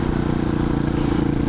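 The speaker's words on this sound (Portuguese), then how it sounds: "Tomara que dê pra ouvir o barulho da moto direitinho" A 2007 Husqvarna SM610 single-cylinder motorcycle runs at a steady pace on a ride, a loud, close, continuous engine drone with a rough rhythmic pulse and no speech.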